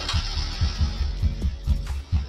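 A TVS Ntorq scooter, three years old and slightly worn, runs with a steady low throbbing exhaust pulse, close and moderately loud, with no talking over it.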